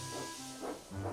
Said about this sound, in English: So Thomas buffered up to James and his passenger train and chuffed away